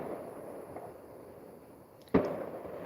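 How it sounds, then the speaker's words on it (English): Fireworks go off outside in the background: a single sharp distant pop with a short tail rises above a steady room hum, moderately loud, with no talking at that moment. "It sounds like fireworks. I'm praying it's fireworks."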